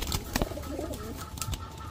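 Racer pigeons kept for sale, including Pakistani Teddy, Gorra and Moyna jhak types, coo in soft, low bursts at close range with light wing and cage rustle and no talking.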